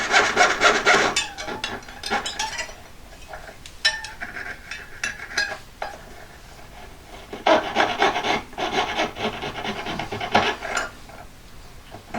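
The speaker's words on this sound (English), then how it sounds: "Chopping out that centre bit now." Rough rasping cuts into a wooden centre piece, coming in bursts of scraping strokes with short pauses, loud and close.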